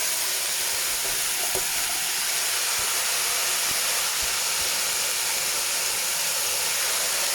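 Courgette for a ratatouille fries in a pan, giving a steady loud sizzling hiss throughout, broken by a few faint clicks of stirring.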